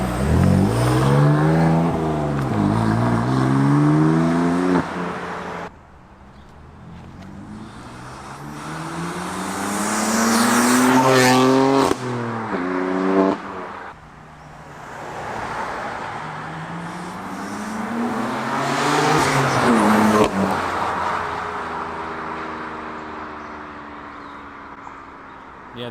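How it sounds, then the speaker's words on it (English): A BMW F82 M4 fitted with a front mount intake accelerates hard through repeated runs, loud rising turbo whistle and exhaust rasp swelling and fading between gear changes, with no talk over it. "Makes a huge difference in the exhaust sound, and you can hear the turbos really."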